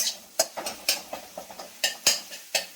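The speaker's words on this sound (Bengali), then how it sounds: "আমি ঝুড়ি ঝুড়ি করে ভাজবো" A utensil scrapes and clinks against a pan in quick, repeated strokes as egg is stirred and fried into small scrambled bits, close and crisp with no voices.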